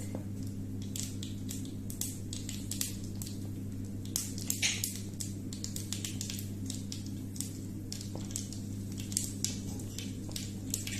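Mustard seeds go into hot oil for a chicken curry and give quiet, scattered pops and crackles over a low steady hum, irregular and close, with no talking.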